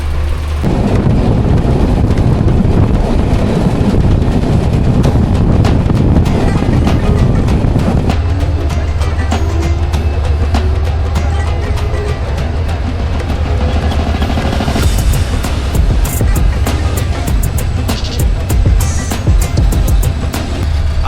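Steady rumble and rattle from inside a moving train with a fan running, a constant low whir and clattering that shifts midway, loud and continuous throughout.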